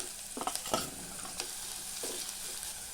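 Onions, cumin seeds and carrot pieces fry in oil in a pan for ragi soup, a soft steady hiss punctuated by a few scraping stirs near the start and again later, close and without talk.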